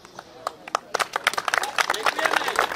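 Scattered clapping builds into fuller applause for competitors at a municipal firefighting sports competition in Włoszczowa, growing denser toward the end, with a voice speaking over it.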